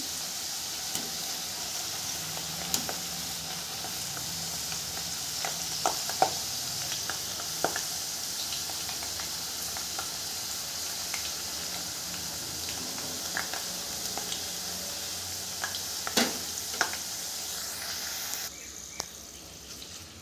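Potato wafer slices deep-fry in hot oil over a full gas flame, giving a steady, soft sizzle broken by scattered small pops and clicks, with no talking.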